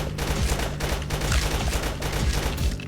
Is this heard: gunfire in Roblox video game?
yes